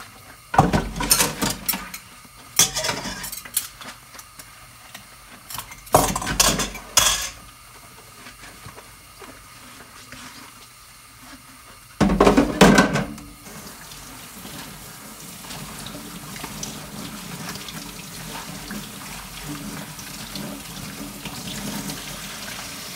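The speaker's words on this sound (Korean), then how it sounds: "설거지만 계속하네요." Dishes being washed in a kitchen sink during home cooking, with several loud bursts of running tap water, clinking plates and cutlery between them, and a quieter steady water trickle toward the end.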